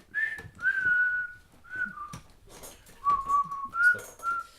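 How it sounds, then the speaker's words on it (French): A tune from the film The Breakfast Club is whistled in short, clear phrases, with several sustained notes and small slides between them, moderately close and with brief pauses. "à un moment ils sont tous en train de siffler dans l'accord tacite"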